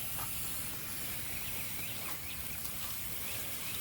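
A garden irrigation system sprays water in a steady, soft hiss, continuous and fairly faint, with no talk.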